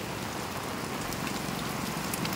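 Heavy rain pours down steadily in a Philippine province, flooding the front of a house, a dense, even hiss of countless drops with no voices.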